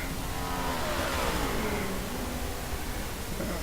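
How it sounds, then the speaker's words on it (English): An Audi race car engine drones loudly down the track in a pro-am racing event, its pitch sweeping downward as it passes, with steady broadband roar throughout and no talk. "that Audi's fast coming down here"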